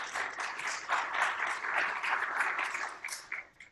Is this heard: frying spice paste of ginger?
no